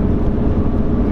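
Exhaust of a 2016 Mustang GT fitted with a Corsa Extreme catback, a loud, deep and steady V8 rumble from inside a tunnel, sustained and close.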